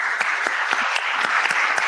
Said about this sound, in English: a final applause to our colleagues, I think, here in the room would be very kind.